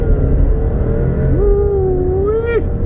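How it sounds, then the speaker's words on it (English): A 2019 Alfa Romeo Stelvio SUV revs hard at a light. The loud, close engine note climbs and holds for about a second before dropping away abruptly, with no voices over it. "I'm just gonna rev it. I'm just gonna go when it turns green."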